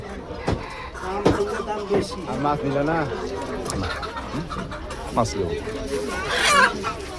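Ducks at a busy market give occasional clucking, fowl-like calls amid close conversation and general crowd chatter.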